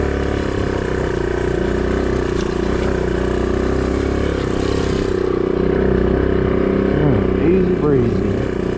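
A 2009 Suzuki DR200 motorcycle creeps up a hill at a couple of miles an hour, its engine a steady low drone with some clatter throughout, shifting slightly in pitch partway through.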